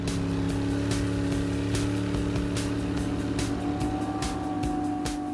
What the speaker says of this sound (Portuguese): Com 2 motores de 600 HPs de mercúrio, essa lancha vai para as águas com um propósito